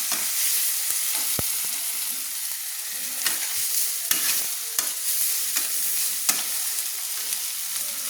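Red chilli powder and turmeric fry in oil in a pan for a fish and cauliflower curry, with a constant close sizzle punctuated by irregular knocks and scrapes of a spoon stirring, and no speech.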